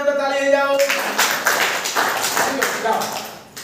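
Students in a school maths class clap their hands together, a lively burst of applause that starts just under a second in and keeps going steadily to the end, following a brief spoken voice at the start.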